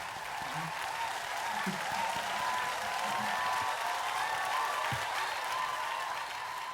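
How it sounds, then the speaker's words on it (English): A conference crowd at a meetings-industry event applauds two speakers, dense continuous clapping filling the room with a faint low murmur underneath, steady and even in level from start to finish. "let's give them a big, big round of applause"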